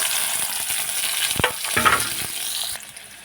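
Chopped onion hits hot cumin-tempered oil for a Khandeshi moth bean dal, a close crackling sizzle with a couple of stirring scrapes and clatters, then quieter toward the end.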